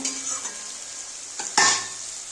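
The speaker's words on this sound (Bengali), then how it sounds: "দেখো সবজিটা ভাজা হয়ে গেছে" Vegetables sizzle softly in a hot pan for a Bengali-style small fish and potato dish, with a few scraping stirs and one sharper burst of frying near the end.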